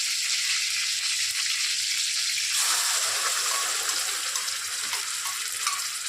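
Ground spice paste with onion hits hot oil in a pan and sizzles loudly, a dense bright frying hiss that swells as the paste settles in, continuous and close with no talk.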